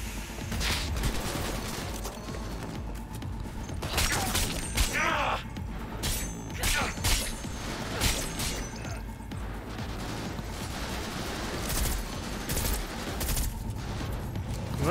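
Gunfire in the video game Cyberpunk 2077 during a firefight: bursts of shots and crashing, shattering impacts ring out over a steady, busy din of combat noise.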